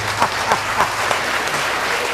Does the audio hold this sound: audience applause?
yes